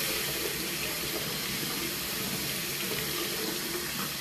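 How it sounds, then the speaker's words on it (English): A bathroom tap pours hot water into a sink, giving a dense, even hiss that stays loud and unbroken throughout, with nobody speaking. "I'm gonna get my warm water going again"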